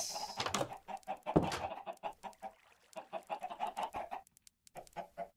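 Chickens in a video game cluck in a steady stream of short, rhythmic calls, fairly close and moderately loud, with brief pauses between bursts.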